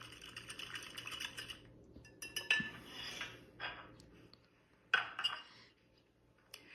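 A spoon stirs orange cake batter in a bowl, making quiet scraping strokes broken by a few light clinks against the side, close and soft.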